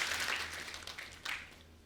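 Studio audience applause at a comedy show, a dense burst of clapping that starts full and gradually fades, with a fresh swell near the end.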